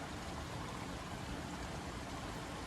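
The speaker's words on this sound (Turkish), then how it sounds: "Derenin sesi de müthiş geliyor" A flowing stream at night gives a steady, broadband rush of water that stays even and unbroken throughout, moderately quiet with no voices.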